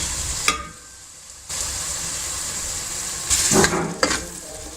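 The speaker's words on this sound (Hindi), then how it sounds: "फ्राई करेंगे जब तक इसका ऑयल ऊपर ना आ जाए।" A steady loud sizzle of masala frying in oil in a pan, close up, with brief clinks and stirring scrapes partway through.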